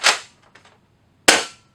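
Two sharp, loud shots from a Nerf Rival Apollo blaster, about a second apart, each a crisp pop with a short decay. Faint mechanical clicks of the priming action fall in the gap between them, and no one speaks.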